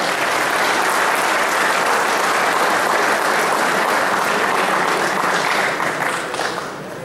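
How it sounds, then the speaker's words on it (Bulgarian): Dense, sustained applause from an audience at a Bulgarian pigeon-breeders' federation anniversary event, loud and steady throughout, thinning slightly at the very end. "Още веднъж поклони и аплодисменти за вас"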